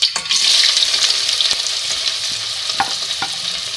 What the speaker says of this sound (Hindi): सबसे पहले ऑयल में 2 मीडियम साइज़ के प्याज ऐड करेंगे